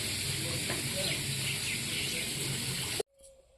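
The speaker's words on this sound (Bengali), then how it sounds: "এখন কড়াইতে তেল দিয়ে দিই।" Oil goes into a hot wok, with a steady bright sizzle and hiss filling the kitchen at moderate level for about three seconds before cutting off abruptly, leaving near silence.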